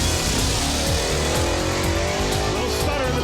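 A drag racing car's engine roars and revs hard as it launches down the track, loud and close, with a brief voice in the background.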